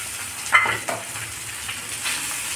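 Cooked rice is tipped into a hot pan and stirred in, giving a steady close sizzle with soft scraping and spoon knocks as it is mixed.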